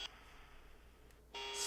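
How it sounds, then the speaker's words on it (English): Dial-up modem connecting inside a creepy horror video game, a faint hum followed by a sudden loud burst of harsh screeching tones near the end. "Speaking of creepy, dial-up."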